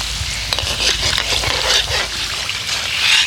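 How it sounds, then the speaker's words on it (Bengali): Aloo puris fry in hot oil, giving a loud, constant bubbling sizzle with a few soft taps as they are flipped. No voices are heard. "এবার আমি উল্টে দেব, আর ঠিক উল্টে পাল্টে সুন্দর করে ভেজে নিতে হবে।"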